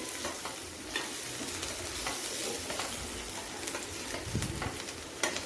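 Onions frying golden brown for a home-style chicken masala: a dense, steady sizzle close by with occasional light stirring scrapes, no voices.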